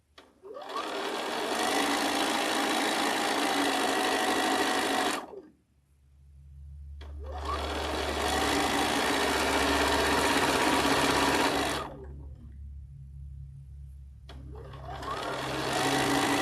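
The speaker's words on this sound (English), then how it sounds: "I'm going to sew this" Sewing machine stitching a quilt border in two long, steady bursts of about five seconds each, separated by short pauses, loud and close with a low hum continuing between runs.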